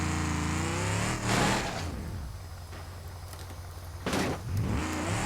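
A D-Series truck in the BeamNG.drive driving game runs with a low engine drone that rises in two revving bursts, the simulated motor loud and close with no voices.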